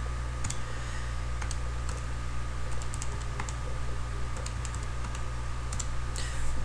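Numbers are typed into a calculator in a series of quick, close plastic key clicks, irregular and fairly loud over a steady low background hum, with no talking.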